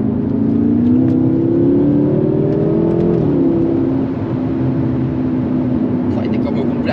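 A 750 hp BMW M6 accelerates with a loud, steady engine drone close by, its pitch rising for a few seconds before settling into a constant, powerful hum.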